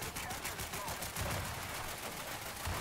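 Gunfire from the War Thunder video game, during a naval battle, forms a dense, fairly quiet wash of rapid crackling shots that runs on without a break.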